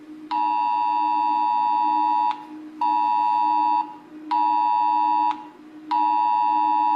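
A loud phone emergency alert tone blares in four long, steady, piercing beeps separated by brief gaps, close and alone.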